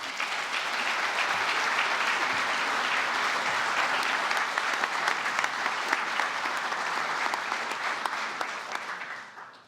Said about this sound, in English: would you do me a favor and give them a round of applause?